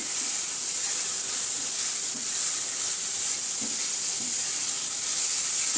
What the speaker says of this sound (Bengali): কয়েকটা কাঁচামরিচ দিব।